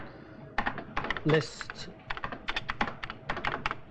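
Clacking keys on a computer keyboard, a quick irregular run of close taps entering a database listing command, with a voice speaking briefly over them.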